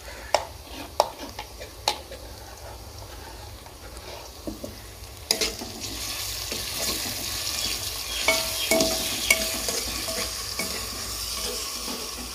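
Steady sizzling of a ginger, garlic and green chili paste frying in hot oil, with a few sharp clinks of a spoon against the pan early on, growing louder and denser toward the end.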